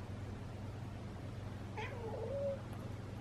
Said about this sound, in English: Cue the cat and his jangly toy.